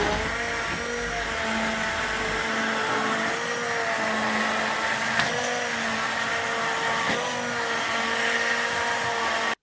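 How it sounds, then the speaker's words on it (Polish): A blender runs steadily and loudly, blending a hot melted Milky Way chocolate bar mass for a truffle cake, its motor whine shifting slightly in pitch as the thick mixture churns, with no talk. "po prostu blenduje już, tylko trzeba uważać, bo jest to gorące"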